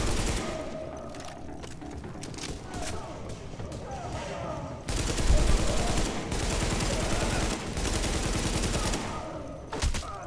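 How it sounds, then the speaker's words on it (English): Pistol fire in The Division video game, with sharp repeated shots and bursts over busy game noise while players talk excitedly throughout. "Oh, I can still shoot my pistol."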